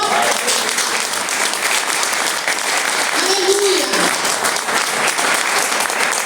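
A church congregation applauds at a service, steady dense clapping filling the room throughout, with a shouted exclamation and voices rising over the applause.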